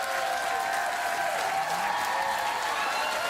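A late-night talk show studio audience applauds steadily and loudly, a dense continuous wash of clapping and crowd noise that holds without a break from start to finish.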